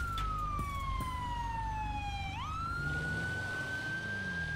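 A police siren in GTA 5 sweeps downward then rises again in a steady wail, loud and close over a low rumble of vehicle engine noise, with no talking.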